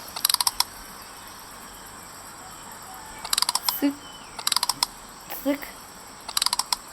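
A ratchet clicks in quick bursts while tightening a bolt on a BMW being put back together, several short, close runs of clicks separated by pauses, with brief voices in between.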